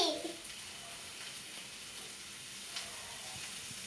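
Tomatoes sizzle and fry steadily in a hot pan while a chutney for dosa is being made, a continuous close crackling hiss with no voice over it.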